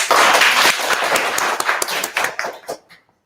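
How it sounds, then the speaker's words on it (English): A junior stage-event audience applauds a young speaker: dense, close clapping that holds steady for a couple of seconds, then thins into a few scattered claps and fades out. "let's give a big round of applause to Joss."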